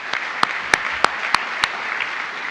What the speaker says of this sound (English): can I get a round of applause for Mr. Ramon Marquez and Mr. Drew Kaufman for helping organize this?